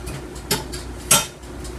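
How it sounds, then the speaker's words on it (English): Butter goes into frying pans on a kitchen stove, marked by two sharp metallic clanks of pan and utensil against a soft background hum. "I'm going to put a little butter in these pans"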